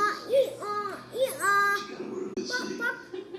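A child mimics a donkey braying in a series of rising and falling, strained voiced calls that repeat several times in quick succession, close to the listener.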